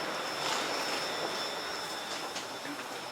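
A Copenhagen metro train rumbles and hisses along at a steady pace, with faint wheel squeals and a constant tonal whine.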